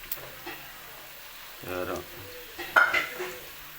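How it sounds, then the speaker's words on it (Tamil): Pirandai, cut into pieces, being fried in a pan: a soft sizzle with scattered stirring scrapes and a sharper clank of utensil on metal, close and fairly quiet, with a voice speaking in between. "இதுமாரி வறுத்துடணும்."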